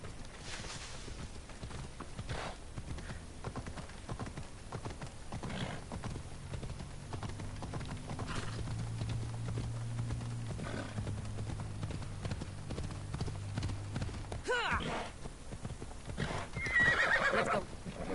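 Horse hooves clip-clop steadily through the scene in Assassin's Creed Odyssey, with a whinny cutting in near the end, all over a low droning game soundtrack.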